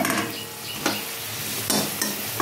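Potatoes fry in hot oil with a steady sizzle, broken by a few sharp scrapes and stirs of a utensil against the pan, close and fairly loud with no talk.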